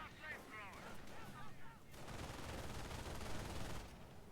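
A mortar fires during a Company of Heroes battle, a booming blast followed by a long rumbling wash of battlefield noise, heard behind earlier sweeping whistles and effects from the game.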